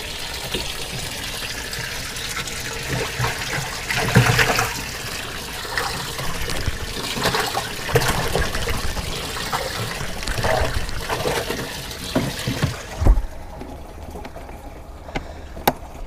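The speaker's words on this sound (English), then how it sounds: "supposed to have a plug in there, Logan, to keep the water from going out" Water trickles and splashes steadily out of a boat missing its drain plug for a long stretch, close and moderately loud, with occasional knocks before it quiets near the end.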